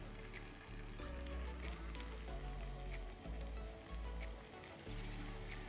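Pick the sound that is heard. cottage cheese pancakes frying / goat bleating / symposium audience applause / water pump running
cottage cheese pancakes frying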